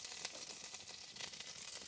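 Green chillies sizzle in hot oil alongside ginger and garlic for homemade egg fried rice, a steady close hiss and crackle of frying throughout with no talking.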